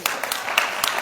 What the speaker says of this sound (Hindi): अरे ताली दो जोर से।